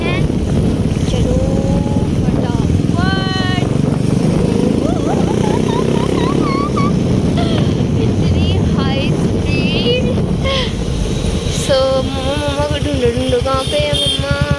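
Royal Enfield Bullet motorcycle ridden through heavy city traffic in Jalandhar, its steady engine thump running throughout under a voice and scattered horns from surrounding traffic.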